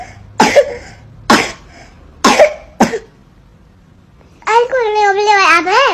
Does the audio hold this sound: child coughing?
yes